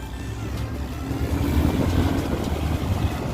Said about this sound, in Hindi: ये देखिए ट्रैक्टर निकल के पड़ रहा है।